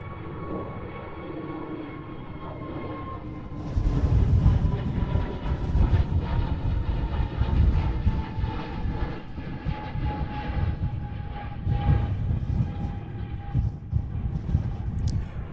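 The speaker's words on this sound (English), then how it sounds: "British Airways. Rocketing to the skies." A British Airways jet takes off at Schiphol airport in Amsterdam on a windy day, its engines a broad steady roar that swells after a few seconds and holds, heard from outside amid wind noise.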